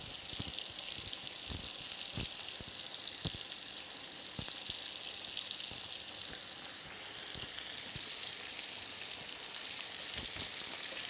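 Meat frying in a pan, a steady close hiss of sizzling oil with scattered small pops and crackles throughout, without any talking.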